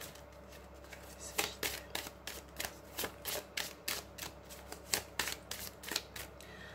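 Oracle cards shuffled and handled up close, a rapid series of crisp riffling flicks and slaps in irregular bursts over a quiet room, with no talking.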